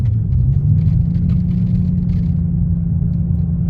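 A car on a test drive swings a hard left over uneven pavement, heard from inside as a loud, steady low rumble and engine drone that holds without a break.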